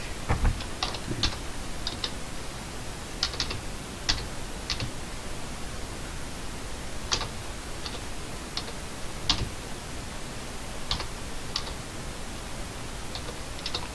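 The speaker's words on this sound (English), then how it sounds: "I'm going to put in my credit card number here." Steady keystrokes on a computer keyboard as a credit card number is entered, light clicks arriving in short irregular bursts with pauses, close by and quiet, with no talking.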